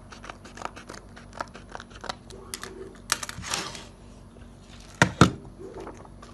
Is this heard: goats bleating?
no